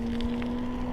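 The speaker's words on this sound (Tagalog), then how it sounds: "Oh, big bike na naman yun." A big motorcycle passing on the road, heard as a steady droning engine hum with a faint higher whine, close and fairly loud, during a bicycle ride.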